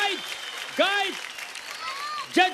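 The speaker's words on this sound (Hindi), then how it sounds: "अरे मेरे लड़कों के लिए जोरदार तालियां बजाओ।" Applause from a dance show audience cheering a boys' team in a dance battle, a steady noisy wash with loud, rising whoops and shouted voices bursting over it near the start and end.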